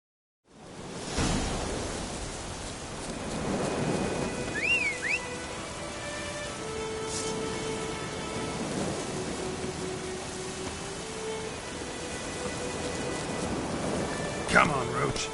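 Steady rain hisses through a stormy scene in The Witcher 3, with low rumbles of thunder rolling beneath and a brief sharp crack near the end, while voices speak over the downpour.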